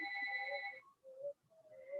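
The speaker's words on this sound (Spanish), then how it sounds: "Permítanme que suena mi teléfono, no sé, muy insistentemente" A mobile phone rings during a psychophysiology lecture, a clear electronic ringtone with a sustained tone followed by short melodic notes, fairly faint and heard alone.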